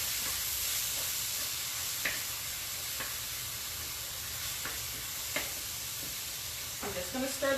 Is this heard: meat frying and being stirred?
yes